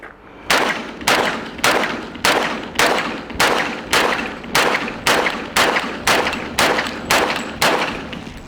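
An FN FNX 45 Tactical pistol fires about fourteen loud, sharp shots at a steady, quick pace of roughly one every half second. Each crack decays briefly before the next, with no talking.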